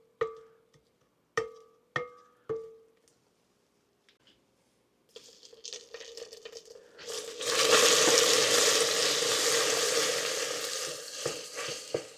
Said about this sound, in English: Stir it up good here now